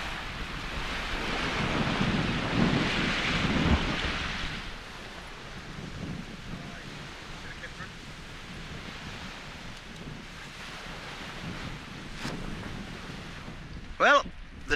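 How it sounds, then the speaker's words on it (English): Gusting wind buffets the microphone while sea waves surge and wash at high tide on a Scottish island, loud at first then easing to a steady, rumbling roar; a voice cries out briefly near the end. "And the wind's come in with it as well, wild."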